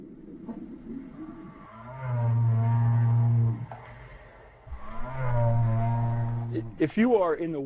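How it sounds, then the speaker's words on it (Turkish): A humpback whale's song, recorded underwater near a shipwreck, comes as long, loud, low moaning calls, two of them, followed by a rising whoop and squeals. "yakından geçen bir kambur balinanın sesi çok yüksek olabilir"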